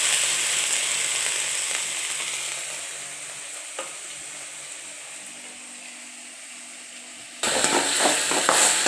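Curry leaves and soaked lentils frying in hot oil for a banana-flower stir-fry, a steady close sizzle that gently fades, then jumps louder near the end as more goes into the pan.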